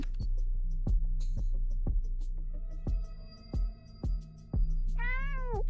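A cat meows repeatedly in a steady series of short, clear calls, close and prominent, ending on a longer rising-falling meow.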